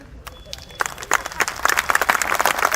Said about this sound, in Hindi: अपनी तालियां थोड़ी सी बड़ी कर दो बस।